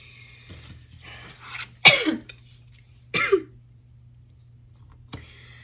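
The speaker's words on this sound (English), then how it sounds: "This cough doesn't want to go away." Person coughing a few times at close range, two sharp harsh bursts with a softer one later, separated by quiet, over a low steady hum in an indoor room.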